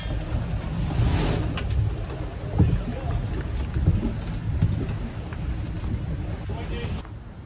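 A sailboat bouncing on the sea at night off the coast between Coffs Harbour and the Gold Coast, with steady wind rush, water slapping the hull and creaking, a voice speaking over it.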